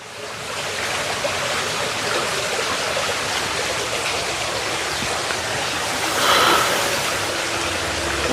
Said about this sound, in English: all I can hear is just water